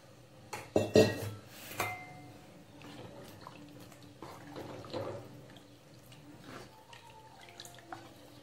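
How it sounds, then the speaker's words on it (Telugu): Churned buttermilk poured into a clay pot amid kitchen clatter, with sharp knocks and clinks of vessels early on, then lighter liquid trickles and small taps, quiet and close. "అందుకని ఇప్పుడు మనం కొన్ని మజ్జిగ పోసేసుకుందాం."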